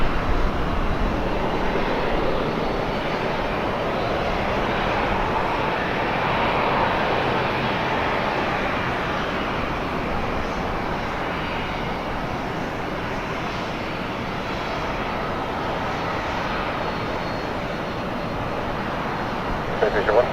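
A Hawaiian Airlines plane approaches Portland airport, its engines a steady broad roar and rumble carrying throughout at moderate distance, with a voice heard over it.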